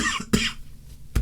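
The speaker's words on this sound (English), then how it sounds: "apologies if I'm coughing occasionally" A person with a slightly tight chest gives two short, close coughs about a second apart, with a quiet pause between them.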